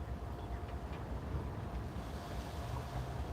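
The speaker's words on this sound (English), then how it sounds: "It's a little windy out here today." Wind blows trackside at a railroad in Wauhatchie, a continuous rushing roar buffeting the microphone with low rumbling gusts and no other distinct sounds.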